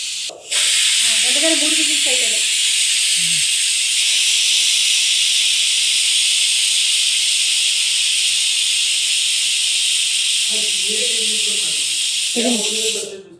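A pressure cooker whistles while cooking kadambam prasadam, a loud continuous high steam hiss lasting about ten seconds, with a person speaking briefly before and after it.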